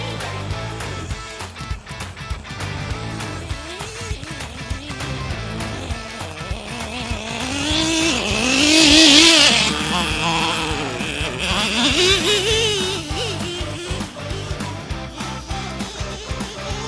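Small nitro RC truck engine running steadily with a buzzing drone that swells louder near the middle, then eases and rises again, heard close and continuous with no talk.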